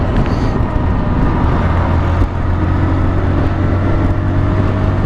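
Steady engine drone and heavy wind rush from a Honda Livo motorcycle cruising on a highway in fourth gear, a continuous close roar with no clear talk.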